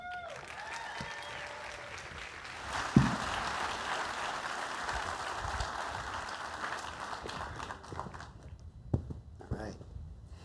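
An audience at a university recognition ceremony applauds as Provost Poon is welcomed, sustained clapping that swells, holds for several seconds and then thins out, with faint voices and footsteps underneath.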